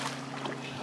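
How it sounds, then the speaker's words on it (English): A continuous hum of a boat engine over rushing water, steady and close, with no voices. "Off for a casual boat cruise."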